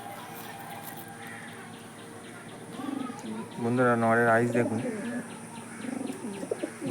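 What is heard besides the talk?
Andhra domestic pigeons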